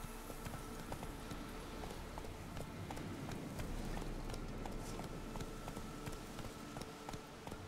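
Hoofbeats of a horse running in The Witcher 3 video game, a steady galloping clip-clop over game music and ambience, continuous and moderately loud throughout.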